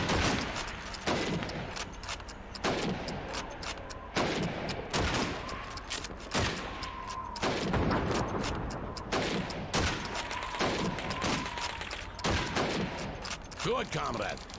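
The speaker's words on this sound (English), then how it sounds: "You have 15 seconds to shoot the helmets." Rifle fire in Call of Duty 2 as helmets are shot on a timed range: a fast run of sharp, loud shots at a quick, uneven pace over about fifteen seconds, with dense background gunfire throughout.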